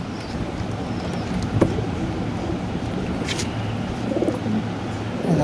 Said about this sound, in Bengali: এই একটা ধাড়ি পায়রা।